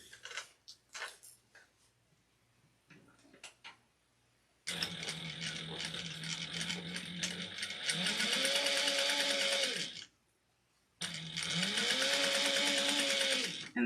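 A sewing machine base stitching a satchel runs in two bursts of rapid, mechanical whirring, the motor pitch rising as each run speeds up, separated by a short pause and quiet handling sounds beforehand.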